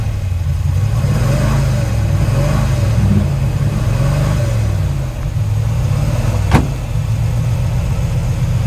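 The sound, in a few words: 1940 Mercury Club Coupe street rod engine revving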